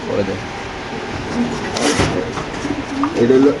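Caged pigeons at a bird market coo softly in short bursts, mixed with a busy background of people talking and a passing vehicle.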